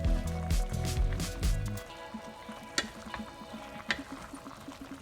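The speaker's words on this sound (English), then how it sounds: "Give it a little stir." Chicken pork adobo sizzles and bubbles in a pan while being stirred, a soft steady frying hiss with a few light clinks, preceded by a brief burst of louder clattering at the start.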